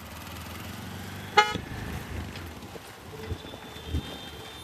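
A Honda Activa scooter horn with water inside it gives one short, sharp honk partway through, over steady outdoor street and traffic noise.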